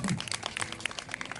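Hand clapping: a short run of quick, uneven claps in a group, fairly faint and close together.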